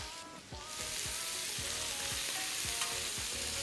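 Garlic sizzling in butter alongside a searing steak gives a steady, close, crackling fry, with a short stir or scrape near the start and repeated soft stirring thumps throughout.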